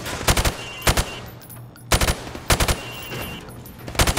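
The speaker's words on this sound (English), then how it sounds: "Now, shoot at the targets while firing from the hip" A rifle fired from the hip at targets on a range in Call of Duty Modern Warfare Remastered, heard as several loud, close bursts of rapid shots separated by short pauses, with no talking.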